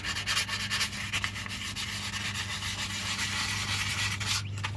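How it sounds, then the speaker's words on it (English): Sandpaper rubs by hand over a rusty spot on a muffler exhaust, a continuous close scratchy rasp with a quick back-and-forth rhythm and no voices. "So I'm going to keep sanding."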